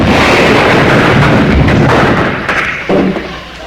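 A voice imitates a car smashing through a closed garage door, a loud, sustained roaring crash with rumbling thuds that break into several sharp cracks and trail off.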